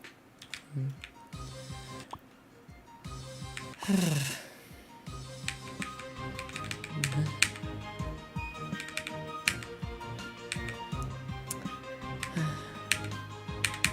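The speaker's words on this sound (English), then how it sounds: "I know the keyboard is loud." A loud computer keyboard clacks in rapid, uneven bursts of typing throughout, over game music and sound effects, with brief talking mixed in.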